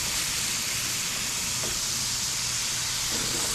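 Salmon fillet frying in a pan, a steady broadband sizzle and hiss running throughout at moderate level, with a low hum underneath and no voices.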